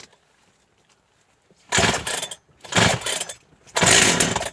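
A Jonsered 2077 Turbo chainsaw, stored for 15 years, is pull-started three times: after a quiet stretch, three loud, rough bursts of cranking and sputtering engine noise come up close, each one cutting off.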